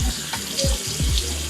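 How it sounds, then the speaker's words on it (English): Tap water runs into a sink as a face is rinsed, a steady close splashing stream broken by irregular splatters and gurgles. "Now I rinse my face"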